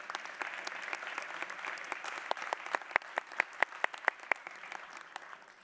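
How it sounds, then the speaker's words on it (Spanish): Applause at a university panel on social violence and peace, a steady patter of many hands with several sharper, louder claps standing out near the end, heard alone without talk. "Un aplauso para ella."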